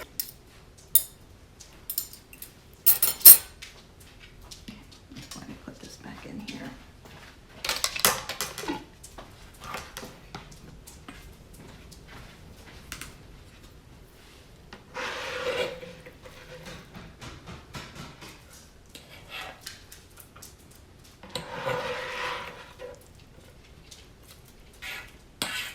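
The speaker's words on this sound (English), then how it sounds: "Look how easy it is to shred." Slow-cooked chicken is shredded in a slow cooker, with scattered scraping and clinking of utensils against the pot in short bursts separated by quiet gaps.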